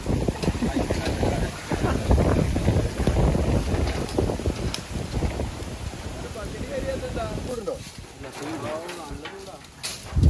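Steady wind buffets the microphone outdoors, a continuous low roar with gusty swells, while voices talk over it near the end.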